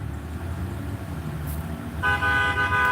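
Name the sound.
car horns honking in traffic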